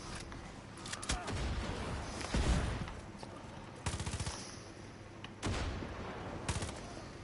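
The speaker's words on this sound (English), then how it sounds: "Oops, grenade out." Gunfire and explosions in Far Cry 6 arrive as several loud sharp bursts, including a short rapid volley, amid game ambience.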